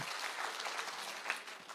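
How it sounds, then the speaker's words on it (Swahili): An audience at a security forum in Nyamira County breaks into steady, dense applause, a continuous wash of clapping that holds at an even level throughout with no voices rising above it. "Makofi ya heshima"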